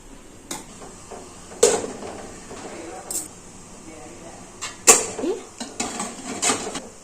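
Metal idli steamer plates being greased with oil and stacked in a kitchen give sharp intermittent clanks and scrapes, several distinct metallic knocks, with someone talking in Telugu between them.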